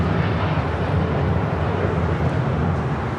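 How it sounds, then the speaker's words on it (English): A Cathay Pacific Boeing 777-300ER in oneworld livery departs Los Angeles International Airport for Hong Kong, its engines a loud, broad, steady roar. "That is Cathay Pacific, Flight 885, departing to Hong Kong on a 9-year-old 777-300ER in the One World livery."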